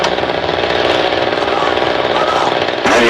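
Chainsaw running in the horror film Phantasm II, a loud, steady, rough buzzing drone that holds without pause and ends with a brief abrupt change.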